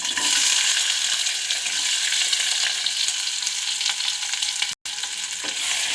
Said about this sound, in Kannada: ಫ್ರೈ ಮಾಡ್ಕೋಬೇಕು ಈರುಳ್ಳಿ ಹಾಕಿದ